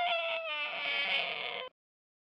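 Baby crying in a children's story about a little brother, a single sustained wailing cry lasting under two seconds, close and fairly loud, then cutting off abruptly into silence.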